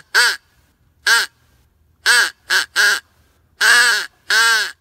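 A crow call used for hunting is blown, imitating crow caws: seven loud, harsh caws in irregular bursts, some paired, with short silences between.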